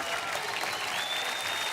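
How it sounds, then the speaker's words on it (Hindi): A studio audience applauds on a Hindi game show, dense, even clapping from a crowd that holds steady through a short burst. "तालियां, तालियां"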